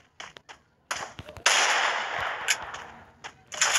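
Gunfire in a shooting video game: sharp isolated shots early, then a louder sustained burst of rapid fire that trails off, followed by more clipped shots near the end.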